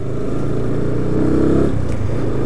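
A 250cc motorcycle running without an air filter, revved hard against the rev limiter, giving a loud, close, raspy engine roar that stutters slightly as the limiter cuts in.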